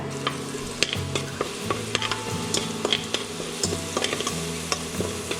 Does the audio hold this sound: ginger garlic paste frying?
yes